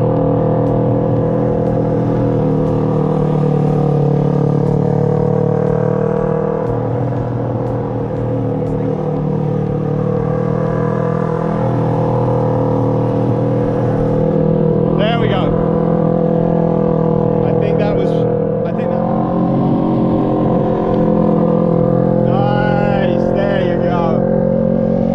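A motorcycle engine drones steadily on a track while the rider leans over to drag a knee, a loud, sustained note with slight rises in revs, and voices talk over it in places.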